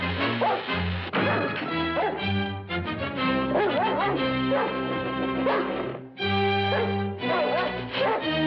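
A dog barks and yips amid loud, busy music, with brief whimpering sounds mixed in and little speech, the yelps standing out now and then over the dense score.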